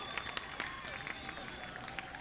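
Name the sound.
audience clapping after fireworks display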